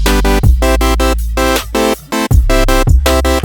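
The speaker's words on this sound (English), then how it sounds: "we're going to start this bad boy off with a saw wave" A Serum synthesizer saw wave with unison voices plays bright, buzzy, chopped chords in a rhythmic electro pattern under a deep, sustained bass layer. It is loud and close, with no voices.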